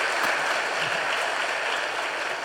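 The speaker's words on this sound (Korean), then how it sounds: "우리 따뜻한 환영의 박수 축복합니다" A church congregation at a Sunday worship service claps in welcome for visitors, a steady, moderately distant wash of applause filling the hall without pause.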